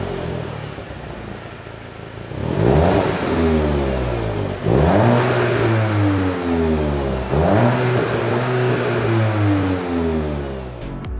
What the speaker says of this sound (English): Thanks to the bespoke exhaust system, it also sounds a lot better than a standard GTI.